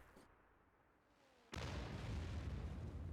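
A World of Tanks artillery gun fires in one sudden, heavy boom that becomes a loud, sustained rumble of roar and debris, after a quiet stretch of faint game ambience with no voices.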